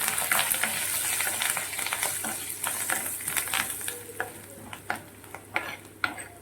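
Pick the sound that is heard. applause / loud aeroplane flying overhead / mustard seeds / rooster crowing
mustard seeds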